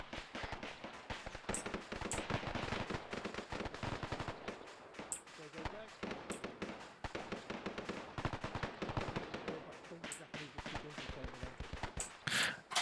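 Rapid M1 Garand rifle fire and surrounding battle gunfire in the World War II shooter Task Force Athena on Guadalcanal, dense bursts of sharp shots throughout, with occasional voices.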